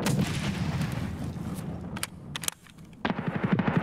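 A grenade blast and gunfire in the shooter game Escape from Tarkov, with heavy rapid bursts and sharp reports, a brief lull, then another rattling burst of shots.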